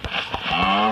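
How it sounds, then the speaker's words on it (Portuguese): Cows in a farming survival video game give a short, close moo with a rising tonal pitch, preceded by a couple of quick soft thumps, with no voices over it. "Aqui já encheu tudo de vaca."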